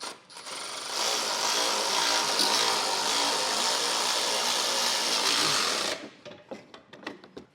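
Power impact tool running steadily for about five seconds while tightening trailer hitch bolts with a 17 mm socket on a Curt front-mount receiver on a 2015 Toyota, followed by a few short clicks and clunks.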